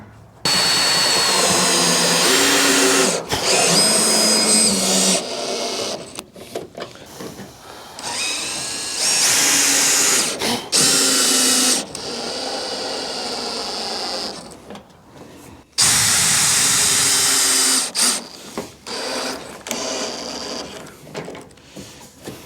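Power drill driving fasteners to attach gable trim on a chicken coop roof, loud whining bursts of a few seconds each, separated by short pauses and quieter handling noise.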